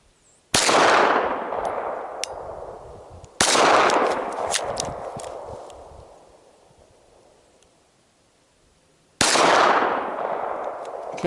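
Three loud gunshots from a GS17 pistol fired at long range outdoors, each a sharp crack followed by a long rolling echo that fades over several seconds, spaced irregularly with quiet gaps between.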